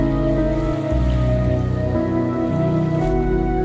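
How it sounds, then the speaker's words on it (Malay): Heavy storm rain pours down loud and close in a continuous roar of drops, with a low rumbling layer whose pitch shifts a few times and no voices. "hujan lebat turun ke bumi"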